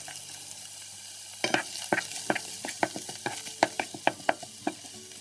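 Onions frying in a pan for spaghetti sauce, a steady sizzle broken by repeated sharp scraping stirs as they are pushed around, close and fairly loud with no talking.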